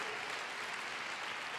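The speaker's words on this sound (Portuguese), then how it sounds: "Glória a Deus, vamos aplaudir." Brief burst of applause from a church congregation at a worship conference, a steady wash of clapping lasting under two seconds at moderate distance.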